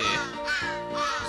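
Crows cawing in the video game Santa Claus in Trouble, three harsh, closely spaced caws in a steady rhythm, loud and near with no talk over them.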